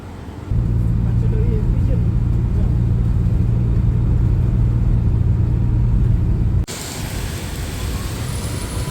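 Steady low engine rumble inside a bus riding through rainy streets, a loud constant drone that drops off abruptly near the end, giving way to a brighter hiss of road and rain noise.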